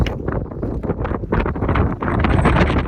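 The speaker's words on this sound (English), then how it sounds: "so now we get the wind to help push us out of here" Steady gusting wind buffets the microphone on a mountain trail in Utah's High Uintas, near Red Castle Lake, a continuous close rumbling roar with no speech.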